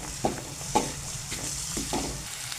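Garlic ginger paste fries in oil in a pan with a steady low sizzle, broken by a few sharp stirring scrapes, close and moderately loud with no talking.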